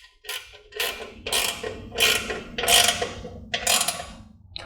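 Bolts being tightened on a motorcycle hugger front fender with a ratchet, six close bursts of rapid clicking separated by brief pauses.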